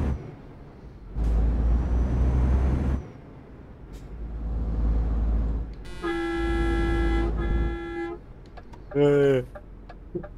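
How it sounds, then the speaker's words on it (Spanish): A custom truck horn in Euro Truck Simulator 2 sounds two loud, sustained, train-like blasts over engine rumble and air-brake hiss on a night drive, followed by a brief voice. "le hemos puesto una bocina que, no sé, yo la he puesto así para probar y al final la hemos dejado la bocina"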